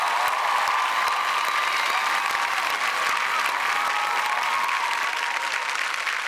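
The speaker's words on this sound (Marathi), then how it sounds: "जोरदार टाळ्या सैराटसाठी झाल्या पाहिजेत" A studio audience on a comedy show stage applauds loudly and steadily for the Marathi film Sairat, a dense, even wash of clapping that lasts throughout with no break.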